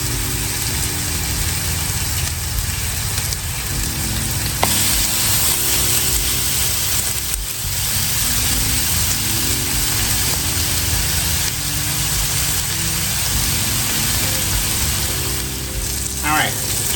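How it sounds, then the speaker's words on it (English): Salisbury steak patties searing in a pan give a steady broadband sizzle over a low, constant mechanical hum, with a faint sharp tick or two near the end. "We just want a sear on both sides."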